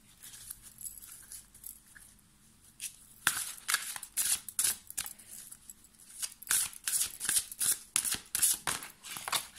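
Oracle cards are shuffled for a reading: soft riffling and slapping bursts, quiet at first, then a rapid uneven series of close card flicks and taps with no talking.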